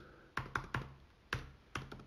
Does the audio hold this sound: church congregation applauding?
no